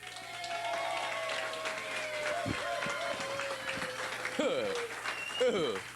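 Crowd applause and cheering at the final game of a bowling tournament at Silver Lanes, a steady broad wash of clapping beneath a voice talking over it throughout.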